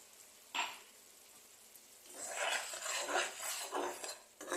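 A potato and cauliflower dalna curry with garam masala powder is stirred in a cooking pot, a single metal clink followed by a run of scraping, clattering spoon strokes against the pot, close and fairly faint, with no speech.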